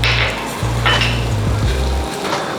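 Butter melts and sizzles in a saucepan over low heat to start a roux for vegetarian Swedish plant balls, a soft close crackle with a low steady hum beneath it and no voices.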